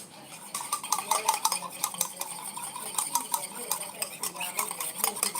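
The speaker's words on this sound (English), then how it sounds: "Spoon them up back in here. And then just try and dissolve this bit." A spoon scrapes and clinks steadily around a bowl, stirring to dissolve matcha powder in batches, a close continuous run of quick light taps and swirls with no talking.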